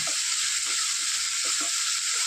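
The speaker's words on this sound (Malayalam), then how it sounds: "നന്നായിട്ടൊന്ന് ഇളക്കി യോജിപ്പിച്ച് ഒന്ന് വഴന്ന് വരുന്നവരെ വെയിറ്റ് ചെയ്യാം നമുക്ക്" Vegetables sautéing with vermicelli in a pan for Kerala semiya upma, giving a bright, even sizzle throughout with soft periodic scrapes of stirring, close up and without speech.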